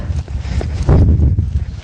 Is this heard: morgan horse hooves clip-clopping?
yes